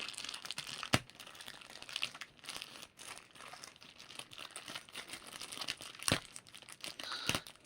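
Plastic packaging of an Amazon Solimo quilt cover crinkles and tears as the parcel is opened one-handed, a continuous close rustle broken by a few sharper rips.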